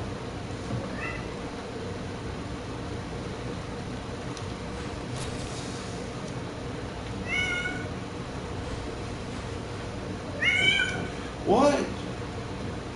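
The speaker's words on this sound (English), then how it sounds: "Cats are going crazy." Cats meowing in the video game The Evil Within, several separate yowls scattered over a constant low hum, the last two loudest and close together, with a person talking briefly.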